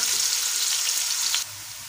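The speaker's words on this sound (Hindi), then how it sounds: "प्याज को हम लाइट ब्राउन करेंगे।" Sliced medium onion fries in hot oil for chana dal pulao, giving a dense, steady hiss that runs unbroken for over a second before dropping to a quieter sizzle, with no voices.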